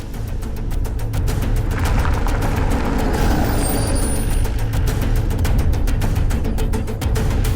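A vehicle's engine rumbles loudly and close as it pulls out, a heavy, steady drone with a rough, chattering texture that holds at constant strength throughout.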